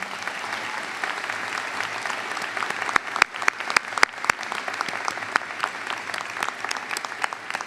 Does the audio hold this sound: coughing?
no